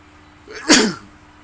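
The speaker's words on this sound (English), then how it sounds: "I always sneeze when I do a video lately" One loud, sharp human sneeze bursts out close by, preceded by a brief inhale and trailing off quickly.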